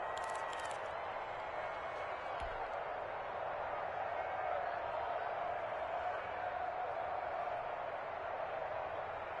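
Steady stadium crowd roar in a football video game building ahead of a big third down, a continuous wash of cheering noise at constant level with faint commentary-like voices underneath.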